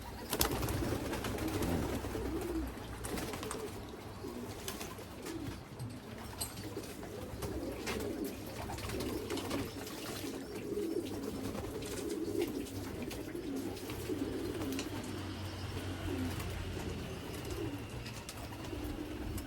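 Soft, low coos from a racing pigeon repeat quietly over a faint background hum, with occasional rustling.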